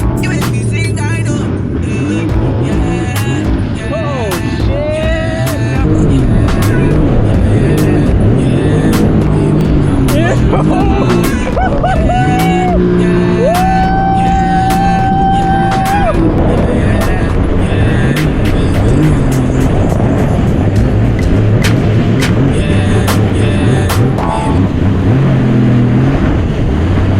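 A jet ski engine runs steadily on the water for a long stretch, its loud broadband roar rising and falling with throttle, while people talk and sing over it.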